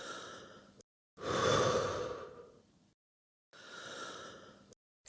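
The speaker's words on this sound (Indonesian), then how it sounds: "Lalu tarik napas dalam-dalam dan hembuskan." A person takes a deep breath in and lets it out in a long audible exhale, then begins another slow breath after a short silence. The breathing is close and alone.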